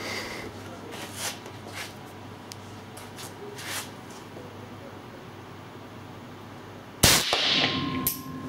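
An AK-74 rifle fires a single sharp shot on a shooting range, with a loud close crack and short ringing tail near the end after quiet background.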